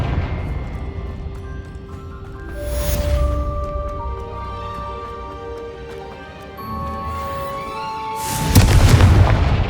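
Fiery blasts from the Confringo explosion spell cast in the video game Hogwarts Legacy, a booming burst near the three-second mark and a heavier, louder blast near the end, with tonal game music ringing through between them.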